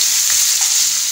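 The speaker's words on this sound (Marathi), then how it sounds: "कढईत तूप टाकलेलं आहे" Ghee heats in a wok with a loud, close, unbroken hissing sizzle that stays even for its short length, with no voices over it.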